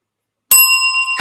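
A bright bell sound effect rings out as one crisp ding after a moment of silence. The tone is loud and close and sustains briefly before a second strike begins.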